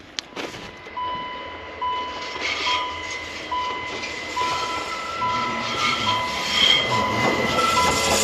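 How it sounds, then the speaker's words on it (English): A small narrow gauge branch line train in snowy Switzerland rolls in, its wheels clattering and squealing on the rails as it draws steadily closer and louder, with no voices. "If you catch a little narrow gauge train in Switzerland and it's on a branch line"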